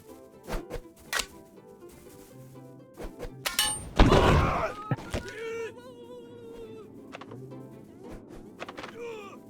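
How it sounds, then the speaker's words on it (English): Catapults firing in the battle game TABS, heard as a string of sharp thunks and whacks, with a loud crashing burst in the middle, among scattered battle noise and faint wailing tones. "Catapults fire very quickly."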